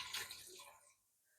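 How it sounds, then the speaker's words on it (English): A small splash of water pours into a container in a kitchen, a brief trickling spill that tapers off quickly into near silence. "I'm just going to put a splash of water into a container that I can then pour some in"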